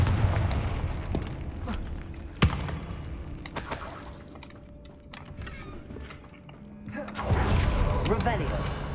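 Confringo, a fire-blast spell in Hogwarts Legacy, goes off as a few sharp explosive bursts with crackling, shattering debris and mechanical clatter, set among game music and effects.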